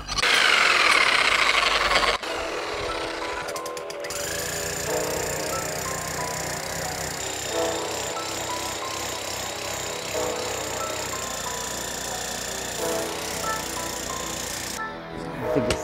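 A demolition hammer with an SDS MAX chisel bit cutting through tree stump roots makes a loud, sustained, rattling hammer roar that runs almost unbroken across the whole stretch, with brief pauses near the start and end.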